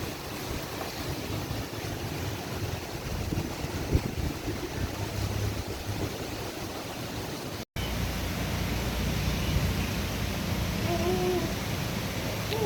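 Strong wind gusting across an open farm during bad weather, a steady loud roar of rushing air and microphone buffeting that continues without a break, with no talking.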